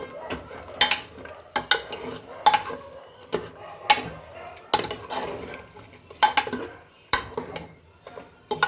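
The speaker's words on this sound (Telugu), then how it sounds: "పేస్ట్ వేసిన తర్వాత బాగా కొంచెం కలపండి." A spoon scrapes and clanks in a pan as masala paste is stirred into chicken curry, giving steady irregular scraping strokes with light sizzling underneath, close and fairly loud, with no talk.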